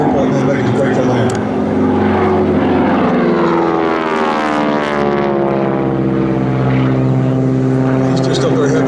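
A propeller airplane with a 600 horsepower engine roars loudly at an air show as it throttles back, its engine drone sliding downward in pitch while a commentator talks over it.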